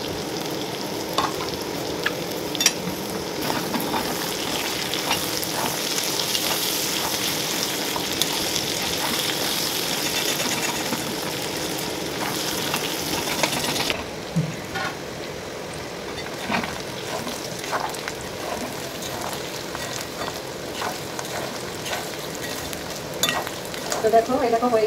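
Chicken fat scraps fry in their own rendered fat in a pan, giving a continuous crackling sizzle broken by scraping and clinking as they are stirred. The sizzle turns somewhat quieter partway through.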